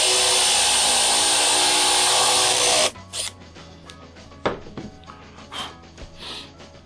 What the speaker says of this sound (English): start your drill above the wood and bore right into the wood until it reaches the stop collar